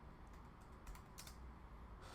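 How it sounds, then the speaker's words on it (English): Soft, faint clicking of keys on a computer keyboard as C# code is typed, a few scattered strokes over a steady background hiss. "So now we're gonna key in the keyword."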